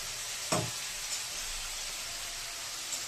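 Paneer sizzles in mustard oil in a home kitchen pan, giving a steady, bright frying hiss with a brief clatter or pop early on and a few faint spits afterward.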